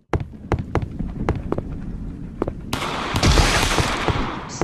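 Video game gunfire, including a sniper shot: a series of sharp, evenly spaced cracks, then a louder burst of dense, noisy blasts, all close and punchy with no talking.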